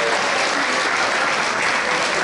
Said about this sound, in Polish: Wielki brawa dla Was!